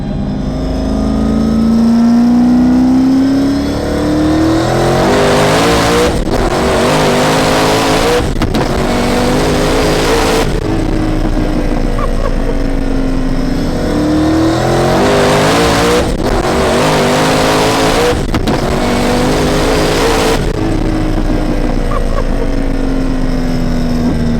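Sequential twin-turbo C7 Z06 Corvette making 1800 hp accelerating hard on the street, loud close engine climbing in pitch through several gear shifts, with brief breaks between pulls and a steady, continuous roar.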